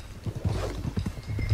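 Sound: Black Arabian stallion galloping in the video game Red Dead Redemption 2

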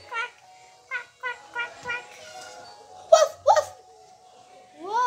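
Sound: dog

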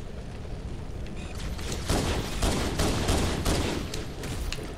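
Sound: pistol gunfire in the video game Halo

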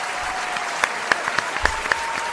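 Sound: audience applause welcoming Pepe Navarro

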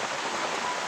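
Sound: rain falling outside

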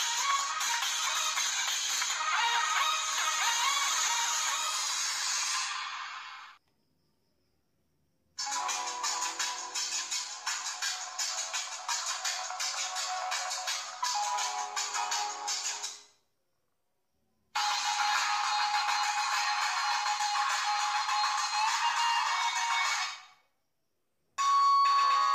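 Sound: ringtones played on a Ti.Phone T90 phone

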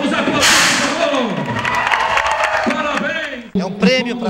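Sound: audience applause

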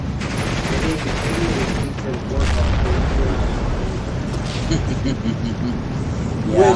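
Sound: airplane firing 30mm cannon, from a video game

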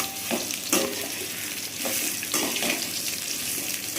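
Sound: raw mango pieces sautéing in oil with mustard and chili

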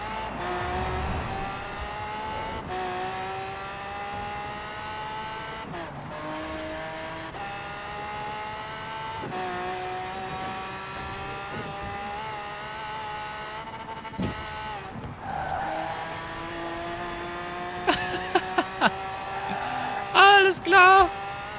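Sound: Lamborghini Centenario engine revving in video game Forza Horizon 4

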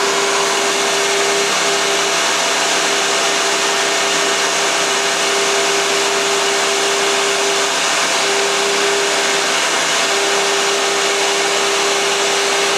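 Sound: scratch-built mini Fadal VMC 15 CNC mill cutting a chamfer

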